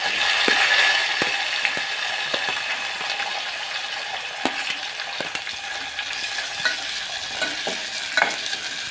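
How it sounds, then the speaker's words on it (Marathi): Close sizzling of onions frying in oil after cumin and mustard seeds, with a metal ladle scraping and tapping the pan at an irregular rhythm throughout. "असे पळीने फिरून घेऊ"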